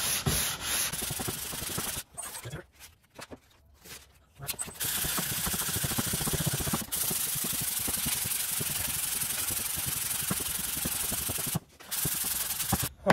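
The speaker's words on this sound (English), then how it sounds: "After I sand it with the block, I'll check it with my straight edge." Sanding block rubbed over the body panel of a Ford 8N tractor, a steady close abrasive scraping in long continuous passes, broken by a few brief pauses, with no talking.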